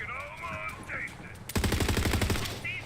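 Rapid automatic gunfire in Borderlands 3 bursts in partway through, loud and close, a fast rattling stream of shots following a quieter stretch with a voice talking.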